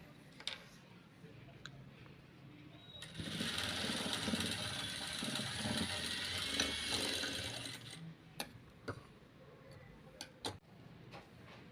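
A sewing machine runs steadily for several seconds, stitching a small girl's frock made from saree cloth, with quieter clicks and handling before and after while someone talks over it.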